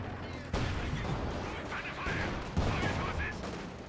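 MG42 machine gun in a World War II real-time strategy game, dense rattling bursts and explosions layered over continuous battle noise, with a commentator talking.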